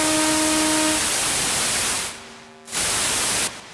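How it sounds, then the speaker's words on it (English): White noise from the noise oscillator of a Surge XT synthesizer, a loud steady hiss with brief tonal lines at the start and two short cutouts, heard alone. "It's just pure white noise until we look up here."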